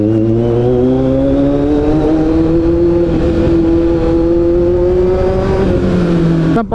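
Kawasaki Z900 motorcycle rolling at low speed with a loud, steady engine drone, its pitch rising slightly then easing, close and alone.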